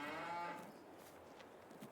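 A cow in Farming Simulator 22 gives a single drawn-out moo that fades into a quiet, low rumbling background, with no talking.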